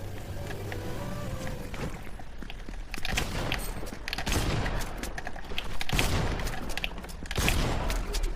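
Video game gunfire in Fortnite: bursts of shots and impacts in a dense, busy mix, growing louder in the second half with several sharp blasts.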